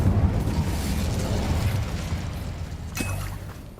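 A fire spell cast in the Hogwarts Legacy video game: a sustained roaring, rumbling burst of flame with a sharp crackle near the end, fairly loud and continuous throughout.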